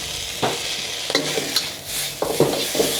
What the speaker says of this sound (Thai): เดี๋ยวครูแม่ก็จะเริ่มทำการผัดกะเพราแล้วจ้ะ